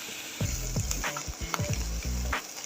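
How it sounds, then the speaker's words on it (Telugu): Goat liver frying with reddened onions Telangana style for sukka fry, a close sizzle punctuated by repeated thumping spatula strokes in a steady rhythm. "లివర్ వేసుకొని సుక్కా ఫ్రై."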